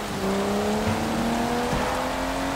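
A car engine hums at a steady pitch over a broad rainy hiss, driving in the rain in Sleeping Dogs, with no voices.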